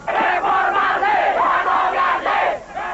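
A large crowd of street protesters in Jakarta loudly chanting anti-Suharto slogans in rhythmic surging waves of massed voices, dense and continuous, ending in a short dip before resuming.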